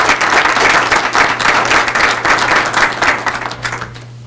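Applause from the attendees at a village board meeting in Lynwood, Illinois, steady and fairly close for about four seconds, with a low electrical hum running beneath and no talking over it.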